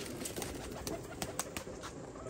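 Pigeons coo at a breeder's loft where flying pigeons are sold, soft repeated calls over a steady hiss with a few sharper flutters or clicks, moderately close and without speech.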